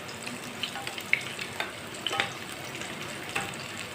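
Semolina batter sizzles in oil on a pan with a steady crackling hiss, small pops and spatters scattered throughout, close and fairly quiet with no voices.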